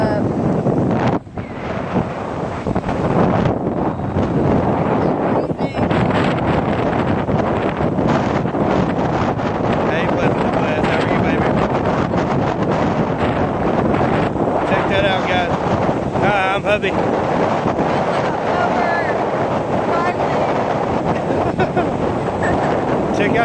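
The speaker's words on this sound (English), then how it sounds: "Check out the trees blowing" Strong wind gusting by Oak Lake in Oklahoma City roars continuously and loudly, buffeting the microphone with rumbling bursts throughout.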